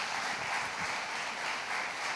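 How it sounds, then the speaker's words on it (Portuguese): Steady, fairly faint applause from a church congregation, an even wash of clapping throughout with no talk. "Vamos aplaudir ao Senhor pela vida da Gisele"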